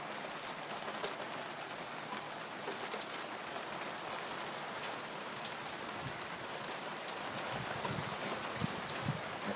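Rain falls steadily in Lancaster, California, a dense even patter on surfaces that stays constant throughout, with no voices.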